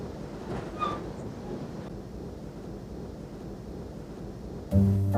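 A muffled, steady rumble of a train moving through a mountain tunnel, with a dull roar throughout and a sudden louder burst near the end.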